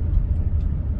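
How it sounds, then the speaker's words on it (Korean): Low road rumble of cars heading out along Jebudo's tidal sea road at low tide, mudflats on either side, a steady close drone with faint tyre and wind noise. "나오는 차들이 굉장히 많습니다."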